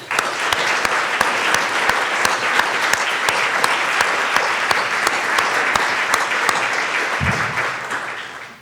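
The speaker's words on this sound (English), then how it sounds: "let's give them a round of applause for all their work" Commencement audience at the 2025 UAS Sitka ceremony applauding steadily, a sustained wash of many hands clapping with a few sharper claps on top, tapering off near the end.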